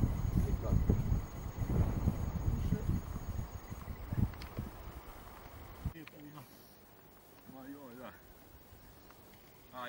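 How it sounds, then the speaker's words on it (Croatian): East wind gusting on a hilltop trail above Brseč, roaring as a loud rumbling buffet across the microphone for about six seconds while people talk, then dropping to a softer, steadier blow. "Istočni vjetar."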